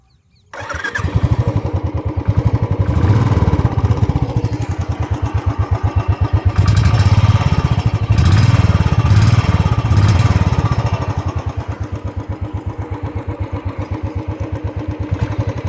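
A Royal Enfield motorcycle engine is heard while riding, a steady loud thumping exhaust pulse heard up close that rises and eases slightly with throttle, with no speech.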